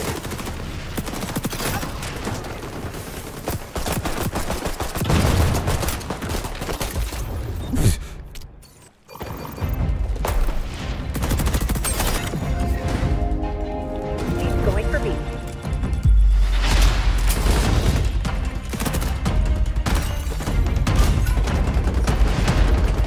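Dense bursts of shotgun and other gunfire from the video game XDefiant rattle through a chaotic firefight, with a brief lull midway before loud shooting and explosions resume, while players talk over it.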